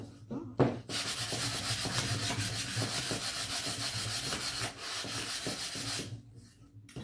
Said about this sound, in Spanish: Lo lijamos en un momento.